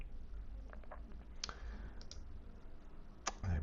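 Quiet computer mouse clicks at a desk while configuring a MobiusFlow software dashboard: a few soft, scattered clicks over steady low room hum, with no talk.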